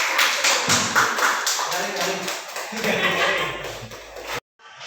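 Students applaud a presenting group in a classroom, a loud wash of many hands clapping that wavers in strength before stopping abruptly, with voices faintly underneath.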